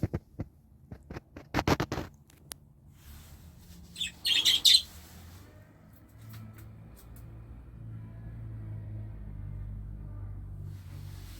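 Pet budgies chirping indoors in short, bright bursts, with a louder cluster of calls midway, over a low steady hum that continues after the birds fall quiet.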